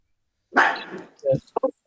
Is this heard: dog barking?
yes